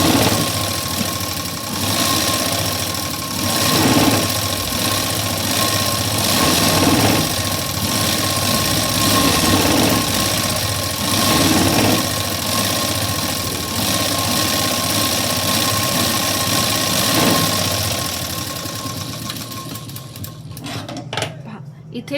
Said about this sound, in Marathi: अर्धा इंच दुमडून मी पूर्ण शिलाई देऊन घेते।